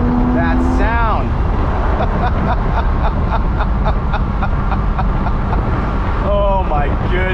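A Porsche Speedster with the top down is driven, its engine droning steadily under heavy wind rush, with a voice briefly heard at the start and near the end.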